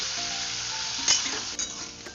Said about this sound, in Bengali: দেখো আলু আমার মোটামুটি ভাজা হয়ে গেছে